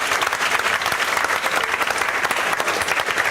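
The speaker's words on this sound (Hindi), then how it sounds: "इसके लिए जोरदार तालियां।" Loud, continuous applause from a seated class audience fills the room, many hands clapping densely and evenly for a few seconds with no voices over it.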